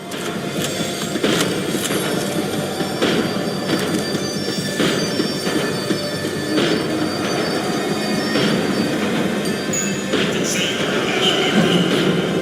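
In the game Max Payne 3, a tram rolls along rails, wheels squealing loudly under a steady rumble. Rhythmic track clicks repeat as it slows down.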